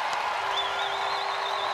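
Steady crowd applause fills a stadium after a goal at a women's World Cup hockey match between the Netherlands and Italy, with a faint whistle-like tone running through it.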